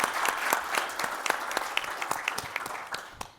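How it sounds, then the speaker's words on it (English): A crowd applauds, a dense patter of clapping that stays strong and then tapers off toward the end. "Please give him a really loud round of applause right now"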